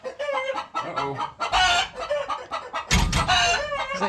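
Hens cluck in uneven bursts throughout, close by, with a louder squawking flurry near the middle and again toward the end.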